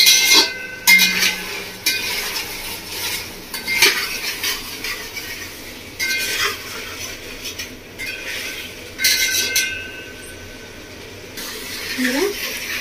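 A metal spatula clinks and scrapes in a pan as ginger, garlic and green chili are sautéed for Bengali village-style mutton kosha, in irregular bursts of sharp clatter over a low background.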